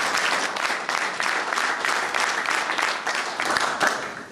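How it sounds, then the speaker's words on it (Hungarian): Steady applause from an audience at a residential public forum in Csepel, Hungary, many hands clapping continuously and fairly loudly throughout, with no talk over it. "Tapsoljunk!"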